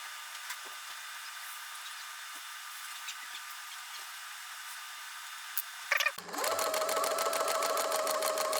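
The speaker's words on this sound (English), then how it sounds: "After I sewed the two panels together, I went back and added this extra seam in." A sewing machine stitches vinyl snowmobile seat panels for a Ski-Doo Summit SP, starting after a quiet stretch of faint handling noises, then running steadily and rapidly with a loud, even mechanical chatter close up.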